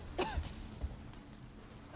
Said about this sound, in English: Not well enough, I guess, if she's coughing.